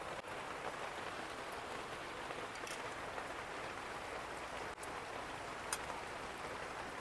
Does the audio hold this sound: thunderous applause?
no